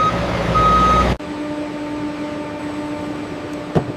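A truck hauling tires arrives with a loud, steady engine rumble that cuts off abruptly after about a second, then a quieter humming idle continues with a faint tonal beep and a brief knock near the end.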